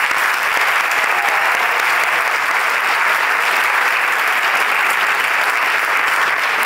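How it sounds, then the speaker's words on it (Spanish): Audience at an awards ceremony for the Burgos fiestas applauding the festival peñas, a loud, sustained wall of crowd clapping holding evenly throughout with no voices on top. "Un aplauso para las peñas."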